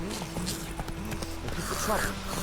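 Horse hooves in The Witcher 3, a quick run of clip-clop footfalls under a voiced whinny-like sound and game noise, with someone talking over it.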